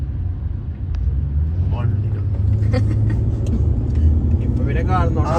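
A car climbing a steep mountain road on the Ittin mountain drive near Salalah, with a steady, close engine and road rumble throughout and people talking over it.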